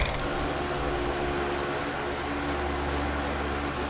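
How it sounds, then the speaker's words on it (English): Spray paint hisses onto the bare metal frame of a 2007 GMC Sierra in a series of short, close bursts over a low steady hum. "I'm just gonna spray paint the open metal"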